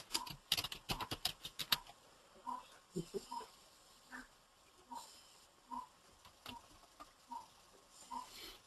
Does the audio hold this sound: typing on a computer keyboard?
yes